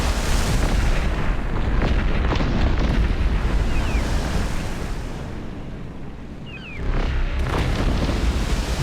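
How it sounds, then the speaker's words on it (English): A warship's cannon fire destroys a tower in Cossacks: Back To War, the 2002 PC strategy game, heard as a heavy, sustained booming roar that eases briefly before surging loud again near the end. "One shot destroys the tower instantly."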